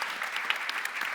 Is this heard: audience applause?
yes